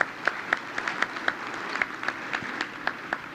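Audience applause at the White House Correspondents' dinner, a modest, thin round of scattered individual claps at an even pace, fairly close and without cheering.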